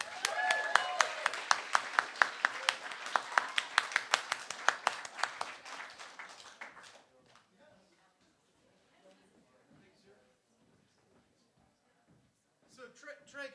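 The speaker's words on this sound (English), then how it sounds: "Give him a round of applause." A comedy-night audience at UTC breaks into brisk, loud applause with sharp individual claps for about seven seconds. It then drops off quickly into near quiet, and a voice comes in at the end.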